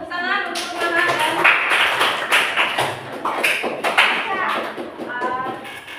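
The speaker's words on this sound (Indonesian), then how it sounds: "Tepuk tangan untuk Maha" Classmates clap for a student after her presentation in a classroom, a dense patter of hand claps running throughout with children's voices and talk mixed in.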